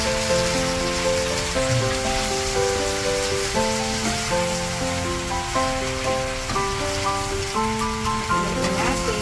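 Choy sum and luncheon meat being stirred in a pan, giving a steady sizzling crackle with scraping strokes, continuous and close throughout.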